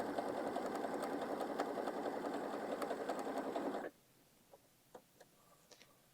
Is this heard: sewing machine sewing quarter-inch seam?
yes